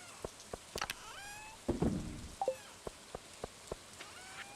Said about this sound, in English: it's raining. We can't work in the rain